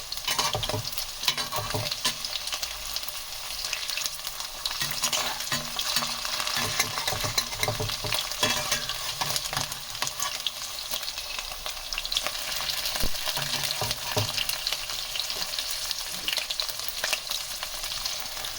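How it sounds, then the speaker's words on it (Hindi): Cubes of paneer frying in oil in a pan hiss and sizzle steadily while a spoon slowly scrapes and turns them, producing repeated soft scraping and clinking strokes up close with no voices. "अब हमने जो पनीर इसमें फ्राई करने के लिए डाला था तो हम स्लो स्लो करके इस तरीके से चम्मच को करेंगे"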